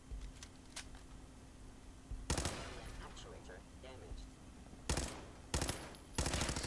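Fallout 4 firearms crack out in short, sharp bursts of automatic fire, several volleys separated by quieter gaps, all fairly faint overall.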